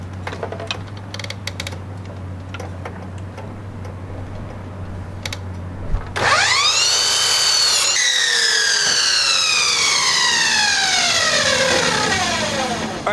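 A power saw cuts wooden boards for the side walls of a dump trailer, its whine starting sharply midway and running steadily loud to the end, with faint clicks and workshop noise before it.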